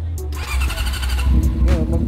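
A Honda CB400 motorcycle with overhauled carburetors cranks with a brief squealing whine, then its engine catches and runs roughly, loud and close, without any speech.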